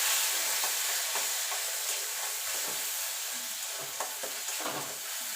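Mustard paste frying in hot oil with nigella seeds, a steady close sizzle with soft stirring scrapes and bubbling throughout, no voices.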